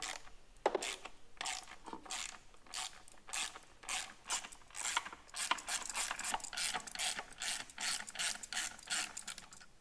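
A ratchet works 10mm or 8mm bolts on top of the intake manifold of a Jeep JL Wrangler or JT Gladiator, giving steady, close, repeated clicking bursts throughout.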